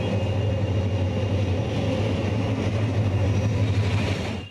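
A train rolls steadily past an urban level crossing, its loud, continuous rumble and rail noise holding close and even throughout before easing off at the very end.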